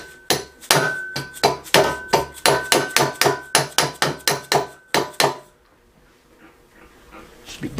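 A hammer taps a part onto the axle of an OBS Ford truck fitted with a 7.3 during a solid axle swap, striking about twenty sharp metallic blows in a quick, steady rhythm close by, then stopping, leaving quiet shop noise.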